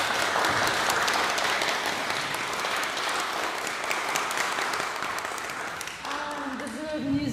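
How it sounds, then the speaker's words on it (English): Sustained audience applause after a Swedish baroque music performance with violins and viola, a dense, even wash of clapping that continues throughout while voices talk faintly beneath it. "think we should applaud them."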